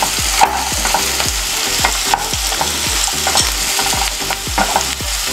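Capsicum and rusk are stir-fried in a pan, making a steady sizzle cut by rhythmic spatula scrapes and knocks about twice a second. The sound is close and loud, with no voices.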